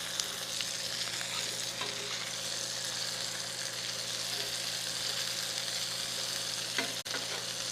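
Hamburger patties fry on an electric burner with a steady, dense sizzle and crackle that holds evenly throughout, broken only by a brief clunk near the end.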